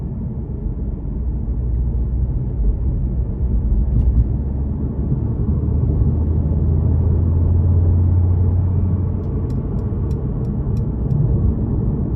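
A 2018 Mercedes-Benz C43 AMG sedan accelerates under throttle, heard from inside the cabin as a loud, steady low engine drone and road rumble that builds slightly, with no talking.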